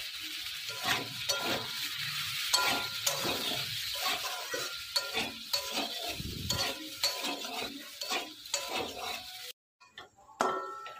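Potatoes are sautéed in oil with salt, turmeric and Kashmiri red chili powder, giving a low sizzle under repeated scrapes and clinks of a spoon against the pan, with a brief pause near the end before stirring resumes.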